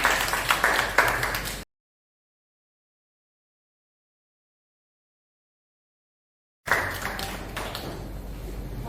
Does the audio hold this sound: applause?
yes